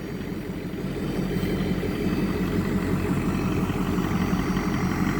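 An LBZ Duramax diesel engine idles after an exhaust repair, a steady low rumble that holds an even, continuous drone throughout, close and moderately loud with no voices.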